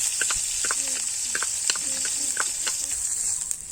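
Chopped onion with whole cumin seeds sizzles in hot oil in a wok while a potato filling is started, giving a steady close hiss with soft stirring clicks and scrapes throughout.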